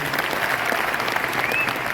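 An audience at a business gathering in Naugachiya, India, claps loudly and steadily, a dense close burst of applause sustained throughout with faint voices underneath.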